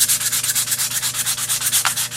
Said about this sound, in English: So always remember to sand with the grain.